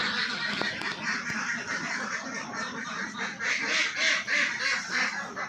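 Several ducks quack repeatedly close by, a busy chorus of nasal calls that grows more rhythmic and louder toward the end.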